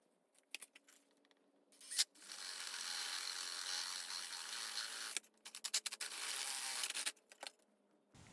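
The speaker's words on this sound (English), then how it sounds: "So let's start drilling." A power drill boring into a foam craft pumpkin for a Halloween nutcracker, with two steady whirring runs of a few seconds each, separated by scraping and clicking handling noises, close and quiet with no talking.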